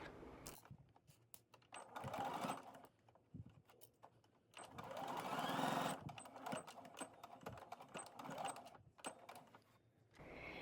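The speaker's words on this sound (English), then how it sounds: "continue sewing all the way to the opposite arm facing" A domestic sewing machine stitches a pinafore dress up to the arm facing in bursts of rapid whirring, stopping and starting with brief clicks and handling noises between runs.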